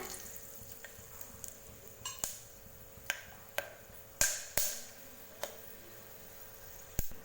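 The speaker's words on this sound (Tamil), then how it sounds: "பட்டை, கிராம்பு, ஏலக்காய் எண்ணெயில் பொரிஞ்சதுமே பச்சை மிளகாய் சேர்த்துக்கலாம்." Whole spices, cinnamon, cloves and cardamom, crackle in hot oil for a beef gravy: a soft steady sizzle broken by a string of sharp popping spits, close and moderately loud, with no talking.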